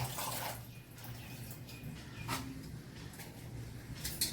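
Drumstick leaves being rinsed twice in a kitchen bowl of water, with steady splashing and trickling water close by, some brief louder sloshes, and no talking.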